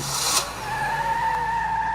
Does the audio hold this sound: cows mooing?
no